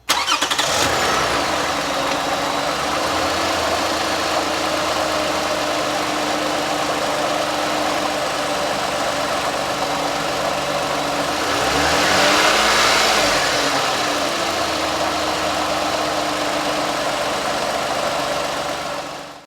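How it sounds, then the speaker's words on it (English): A Toyota 2GR-FE 3.5-liter V6 car engine runs steadily at idle, a loud, constant drone with a brief rise in revs partway through before settling back, close to the microphone and with no talk. "So here's a clip of that engine running."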